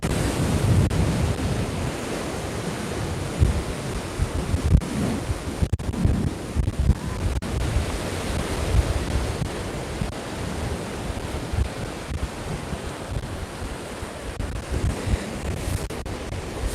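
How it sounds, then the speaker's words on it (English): Wind gusting on the seafront in Palma de Mallorca, a steady broad roar buffeting the microphone, with the wash of surf mixed in beneath it and no talking. "Now I can feel that the wind has picked up slightly."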